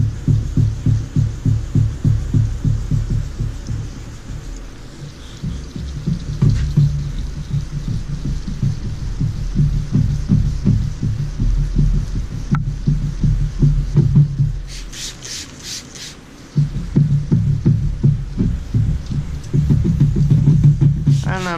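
Car paint being wet sanded by hand with 2000 grit sandpaper in a circular motion, a steady rhythmic rubbing and swishing that stays close and continuous, with short pauses, and no talking.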